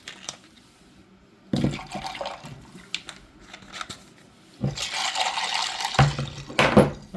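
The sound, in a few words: water added for cleaning amplifier parts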